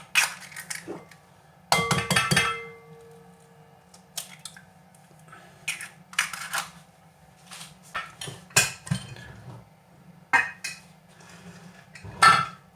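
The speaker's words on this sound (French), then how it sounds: "on commence par casser les œufs" Eggs being cracked for a galette bring sharp, isolated knocks and clinks against a bowl or pan, arriving in irregular bursts separated by quiet gaps, with a faint steady hum underneath.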